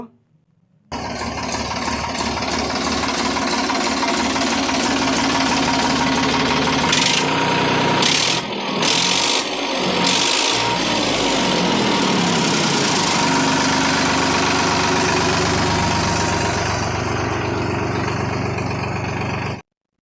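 A 2014 Sonalika DI42 RX tractor engine idles steadily for about twenty seconds, a loud, close diesel rumble with an even knocking beat and vibration, with no talk over it.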